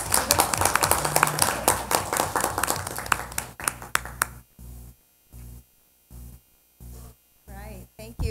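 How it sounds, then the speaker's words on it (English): Students and staff at a student advisory council meeting give a speaker a short round of applause. It is a few seconds of dense clapping that stops abruptly, followed by intermittent mains hum. "Let's give her a round of applause,"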